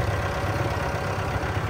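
Kubota M6040SU tractor diesel engine idling close by, a steady low rumble with even knocking pulses, running alone without talk.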